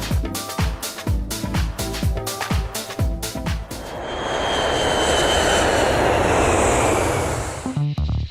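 ATR 72-500 turboprop engines with Hamilton propellers, loud and close. A pulsing, chopping drone gives way to a steady, broad roar that swells and holds, then cuts to clatter at the end.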